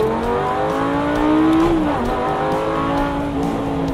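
Loud Lamborghini Gallardo engine revving hard and pulling through the gears of its single-clutch transmission, the pitch climbing, dipping at a shift, then rising again.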